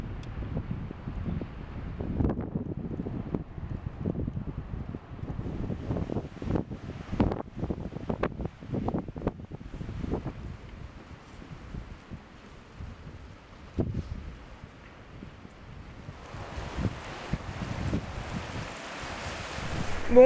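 Strong gusts of wind batter the microphone on a coastal hiking trail along the Côte Vermeille, roaring steadily with uneven surges and buffeting throughout, with no talking.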